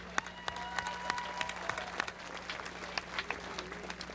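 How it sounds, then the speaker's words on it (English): An audience applauds at the Folklorama opening ceremony, a moderate, slightly distant round of clapping with sharper individual claps standing out over a constant low hum. "let's give a big round of applause to everybody who makes this amazing event happen each and"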